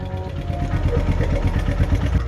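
A motorcycle engine runs at a steady idle with a rapid, even pulsing thump and some mechanical clatter, close and fairly loud; the bike has a fault where the lights flicker and current may not be flowing.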